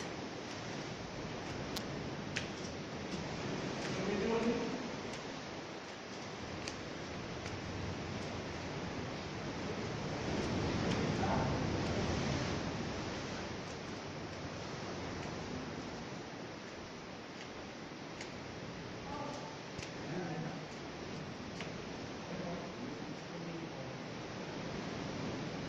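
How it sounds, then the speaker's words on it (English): Ocean waves breaking on a shore in Niue, a steady broad wash of surf rolling on throughout with gentle swells in loudness, fairly close and continuous, with no voices. "Can you hear the waves?"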